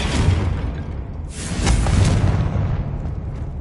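A Confringo spell goes off in a Hogwarts action game: a loud, booming blast with a whooshing burst near the middle, over a continuous low rumble that lasts to the end.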